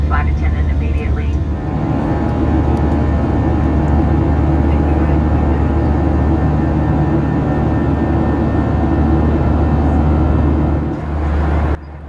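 Steady, loud broadband roar of a REX Airlines airliner cabin just after takeoff on a flight from Melbourne to Adelaide, a constant engine and airflow drone filling the space with no breaks.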